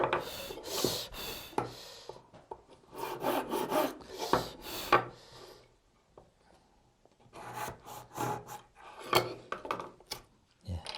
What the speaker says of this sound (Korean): 바로 재단을 해주고요